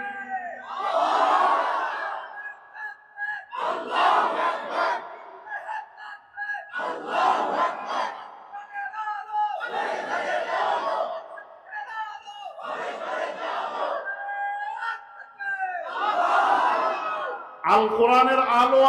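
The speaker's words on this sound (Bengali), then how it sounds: "একটু স্লোগান দেন তো দেখি আপনাদের ঈমানের পাওয়ার কেমন" A large crowd at an Islamic religious rally chants slogans in loud call-and-response bursts, about seven rhythmic shouted waves with short gaps between them, ending with a single voice.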